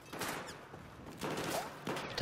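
Bursts of gunfire in the video game Battlefield 4 crackle in rapid clusters, several broadband shots spread over a couple of seconds at moderate distance.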